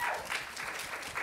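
An audience at a startup founders panel applauding, a steady burst of many hands clapping at moderate volume throughout.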